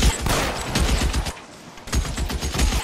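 A rapid burst of gunfire rattles close and loud, a dense fusillade of shots that pauses briefly midway and then resumes.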